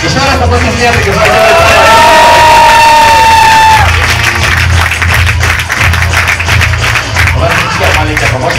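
A large crowd claps and cheers loudly at an award ceremony for an Israeli Mafia game championship, with a few whistles and whoops early on over steady, dense applause.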